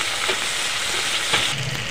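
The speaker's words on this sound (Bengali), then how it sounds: "সব একসাথে করে ভেজে নেব" Onion, tomato and slit green chilies fry together in hot oil, giving a steady, close sizzle with soft stirring scrapes throughout.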